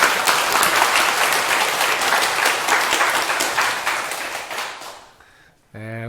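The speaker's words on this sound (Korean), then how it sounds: "박수 주세요" Audience applause at a Buddhist Q&A gathering rises dense and steady, then fades out over the last seconds before a speaking voice takes over.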